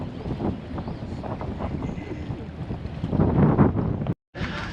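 Wind gusts steadily across the microphone outdoors at Kakadu, a broad continuous rushing roar that swells louder toward the end, briefly cutting out and then resuming.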